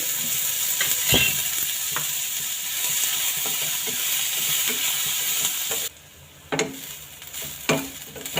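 Onion fries in oil in a pan for palak paneer, giving a continuous close sizzle with periodic scraping and clinking of a stirring utensil, then a brief lull before the sizzle resumes.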